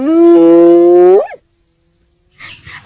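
A voice imitates a fox howl with a single sustained, wavering howl that rises at the end, then breaks off into silence before a short, softer vocal sound.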